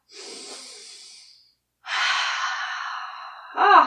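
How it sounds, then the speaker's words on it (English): Deep breathing during a yoga flow: a soft breath in, a pause, then a longer, stronger exhale, ending in a brief louder gasp, close and alone. "Take a nice deep breath."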